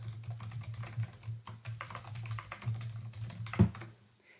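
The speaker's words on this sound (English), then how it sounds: "I can't talk and type at the same time." Fingers type quickly on a computer keyboard, a close, quiet run of irregular clicking keystrokes with a low steady hum behind, ending in one sharper key strike.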